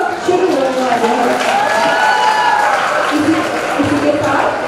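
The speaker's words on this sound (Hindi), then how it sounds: "एक बार जोरदार तालियां बजा दे" An audience at an annual intercollegiate college fest breaks into applause, a steady wash of clapping and crowd noise with a voice carrying over it.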